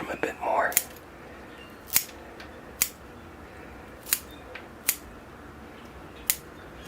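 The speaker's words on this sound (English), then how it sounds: "Give it a peripheral trim here." Scissors trim the roots of a forsythia bonsai cutting with sharp, close snips spaced about a second apart, six or so in a row. Someone speaks quietly just before them.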